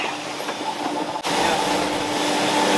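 An old machine injecting gel into bicycle saddles in a saddle factory, heard as a steady, loud mechanical whir and rumble that drops out briefly and resumes.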